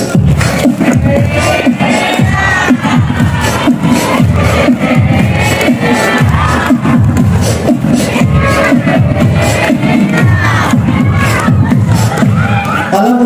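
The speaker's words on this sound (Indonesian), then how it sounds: "Tepuk tangan sambil teriak." An audience at an Islamic boarding school storytelling show claps and yells together in a loud, sustained wave of crowd noise with many children shouting, continuous for the whole stretch.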